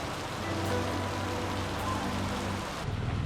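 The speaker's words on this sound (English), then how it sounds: "today the rain doesn't want to stop" Steady rain pours down during a bicycle tour in rural North Vietnam, a dense, even hiss of falling water that continues throughout, with a faint low drone underneath.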